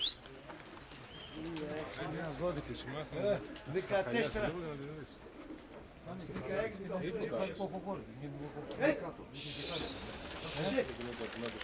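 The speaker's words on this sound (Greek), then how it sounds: "Αυτά εδώ ήταν τα πουλιά." Pigeons or doves cooing in a coop, repeated soft rolling coos close by, with people talking over and between them.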